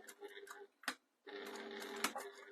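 A sewing machine stitches down the side of a jewellery pouch in two short runs of rapid, fairly close buzzing, separated by a brief stop and a click.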